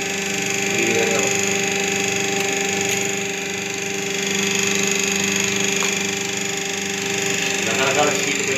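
A semi-automatic paper plate making machine with a single die runs with a continuous mechanical hum and steady tonal whine, and someone talks over it.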